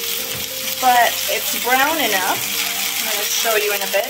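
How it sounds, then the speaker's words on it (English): A mushroom sizzles and crackles steadily under a press in a hot pan while a person talks over it. "It might still be sizzling, especially on the first press"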